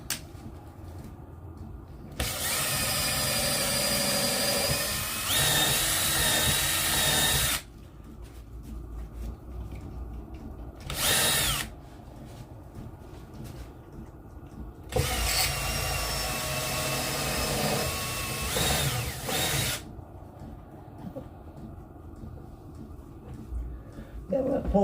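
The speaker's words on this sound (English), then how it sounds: "Let's go ahead and drill this one." A power drill whirs in several sustained bursts of a few seconds each, loud and close, with short pauses and some handling noise between them.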